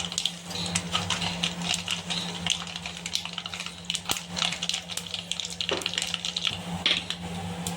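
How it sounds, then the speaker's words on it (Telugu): Mustard seeds sputter in hot oil for a Telugu bitter gourd and tomato fry. Dense, fast crackling pops run steadily throughout, with a low steady hum underneath. "ఆయిల్ వేడెక్కింది, ఆవాలు వేస్తున్నాను ఫ్రెండ్స్"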